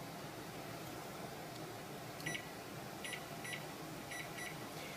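Kitchen timer being set for 12 minutes while canning dill pickles, giving a few short high beeps in quick pairs over a constant hum of background noise.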